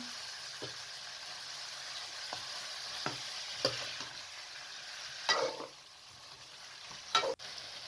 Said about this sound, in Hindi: अब गोश्त डाल के आपने इतनी देर पकाना है कि इसका कलर चेंज हो जाए।